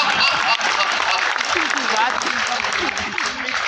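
Audience at a Hindi poetry recital (kavi sammelan) claps steadily in a sustained round of applause, with a voice speaking over it.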